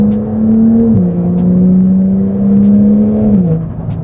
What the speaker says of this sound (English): That blow-off valve is gorgeous.